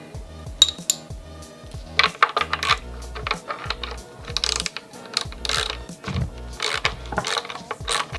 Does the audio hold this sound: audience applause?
no